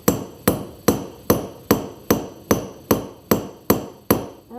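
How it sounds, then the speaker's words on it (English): A distinctive texturing hammer strikes a metal jewelry blank, about eleven sharp ringing blows at a steady, even pace, loud and close with no voices. "I'm really just texturing this up with this really crazy unique hammer here"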